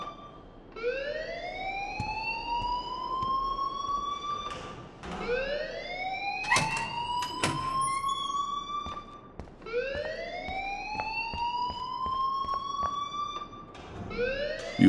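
In the video game Life Is Strange, an electronic alarm wails in repeated rising sweeps, each climbing whoop lasting several seconds before restarting, loud and alone with a few sharp clicks between cycles.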